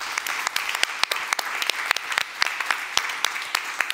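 A live audience in Hamburg's HafenCity claps steadily, a dense patter of many hands with sharp individual claps standing out, moderately loud and continuous.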